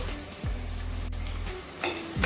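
Onions and slit green chillies sauté in a pan for salna, a steady close sizzle with light stirring scrapes and a soft clink partway through.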